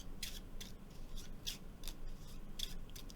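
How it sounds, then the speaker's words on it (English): Tarot cards slide against a deck in soft, papery swishes that come in short repeated bursts, close and quiet with no talking. "I'm going to draw the card in just a second."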